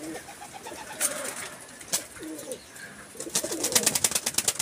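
Racing pigeons coo softly inside a loft amid a busy background of bird chirps, with a few sharp clicks and a denser burst of calls toward the end.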